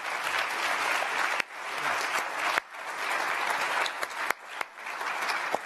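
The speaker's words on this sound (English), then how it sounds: "how about a nice round of applause for Ben, Hank, and Eddie" Audience applause for panelists at the close of a discussion on nationalism and global markets, a full, steady round of clapping with a few abrupt dips and sharp claps, no talking.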